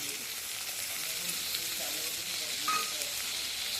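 Tomato going into a hot pan of turmeric-spiced vegetables, giving a steady, close, hissing sizzle that holds evenly throughout with faint stirring and no voices.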